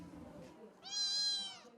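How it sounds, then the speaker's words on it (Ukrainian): A cat, brought as a gift for a boy at a children's settlement in a village in Zakarpattia, gives one clear, drawn-out meow, close and moderately loud, following faint background voices. "хлопчик у нас попросив е, котика, і ми йому вирішили принести котика"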